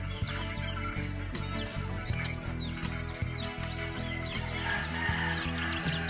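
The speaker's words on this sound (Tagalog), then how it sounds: "Ibon at manok." Birds chirping and tweeting while chickens call around a rural house in the early morning, with repeated bird calls over a steady low background and occasional knocks.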